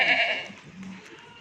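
A goat on a goat farm gives a single short bleat up close, nasal and wavering, then fades into quiet background.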